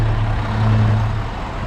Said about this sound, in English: It's a garbage truck blocking the bike lane, 106th Street here.